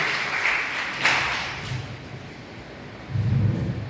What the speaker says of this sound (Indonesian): Dan tepuk tangan untuk Anda semua.